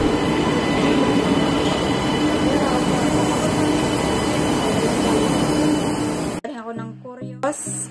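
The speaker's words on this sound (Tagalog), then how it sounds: "Ayan na yung train, sakto." A train arrives at a station, a loud close rumble and rush of rolling wagons filling about six seconds before it cuts off to quieter, scattered sounds.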